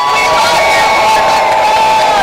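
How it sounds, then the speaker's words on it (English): A large protest crowd cheers and shouts continuously, a loud, dense wall of voices with whoops rising out of the roar. "Let's give the Portland Frog a round of applause!"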